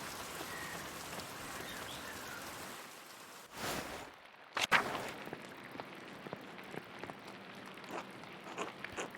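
Steady rain falls across an abbey in the video game Pentiment, a soft continuous wash that briefly drops out and returns with a few sharper bursts and faint patter.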